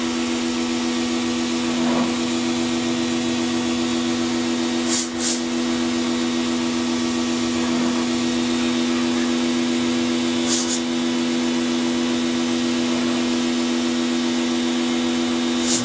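A car vacuum cleaner runs steadily through a car-cleaning job, its loud constant motor whine and airy suction holding level throughout with a few brief hissing bursts, close to the listener.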